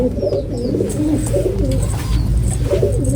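Pigeons gathered on a loft coo in low, throaty, overlapping calls, close and continuous throughout.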